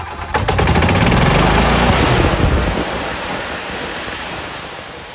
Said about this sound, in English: All right, so now we're gonna rev it up.